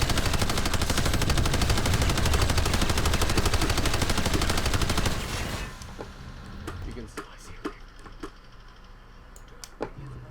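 An aircraft-mounted gun on an ESF fighter in Planetside 2 fires a loud, unbroken stream of rapid rounds for about five seconds, then stops, leaving scattered clicks and quieter background game sounds.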